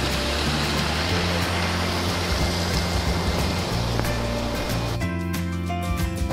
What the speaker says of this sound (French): On entend une petite cascade.